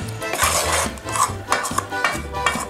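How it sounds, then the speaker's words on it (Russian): A spoon stirs a flour and yeast starter with warm water in a bowl, giving repeated scraping and clinking strokes in an uneven rhythm, close and clear, with no talking. "И ложечкой эту опару перемешаем."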